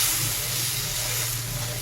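Sugar syrup poured into semolina halwa cooking over a low flame gives a steady, close hiss and sizzle that continues without a break.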